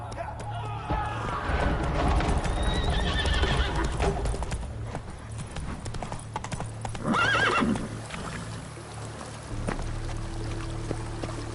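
A horse gallops in the video game The Witcher 3, with rapid hoofbeats, a whinny, and a voice speaking briefly over the loud, busy movement.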